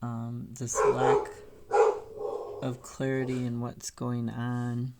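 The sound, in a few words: dog barking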